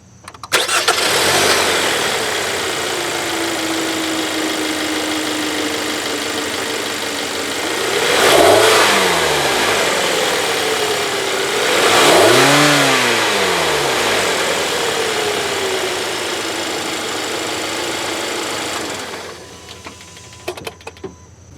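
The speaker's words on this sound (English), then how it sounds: "I'm going to go turn on the engine so you get a sound for it" A 2013 Hyundai Sonata GLS engine starts and idles, then revs up twice in smooth rising-and-falling surges before shutting off.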